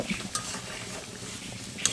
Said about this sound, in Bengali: এখন আমি নেড়ে ছেড়ে নেব।